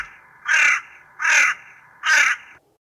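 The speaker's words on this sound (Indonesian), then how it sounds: "Ternyata itu adalah suara burung gagak." Crows give three evenly spaced, loud, rasping caws at close range over a faint steady background hum, which then falls silent.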